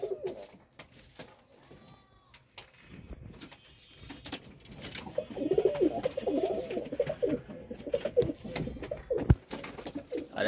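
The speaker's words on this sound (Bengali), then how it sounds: "আর একটা পাকিস্তানি নর কবুতর।" A Pakistani male pigeon coos among other pigeons on a small pigeon farm, soft repeated throaty calls growing busier midway, with shuffling and scattered bird noise around them.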